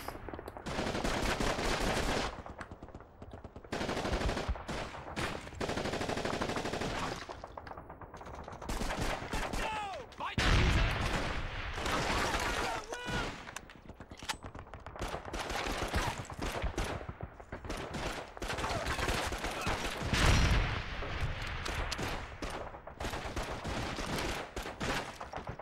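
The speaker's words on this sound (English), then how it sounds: "Whole bloody area shooting us." Heavy gunfire in the PS2 war game Call of Duty 2: Big Red One, rapid bursts of rifle and machine-gun shots with explosions, loud and nearly continuous with brief pauses.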